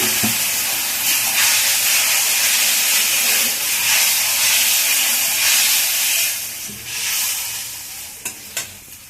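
Water splashed into a hot pan of eggplant being cooked as begun bahar sets off a loud, steady hiss of steam and sizzle that holds for several seconds, then eases off with a few small clicks near the end.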